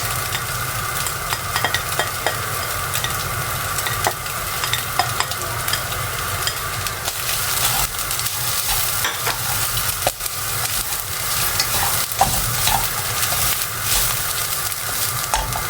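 Bacon and sausage fry in a pan for carbonara, a steady bright sizzle with crackles and occasional stirring scrapes, close and continuous with no talking.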